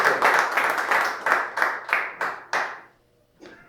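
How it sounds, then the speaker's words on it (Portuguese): A church congregation at a Portuguese-language evangelical service claps in unison, about eight strong rhythmic bursts of hand claps that stop abruptly, followed by a brief faint voice. "Palmas para o Senhor Jesus."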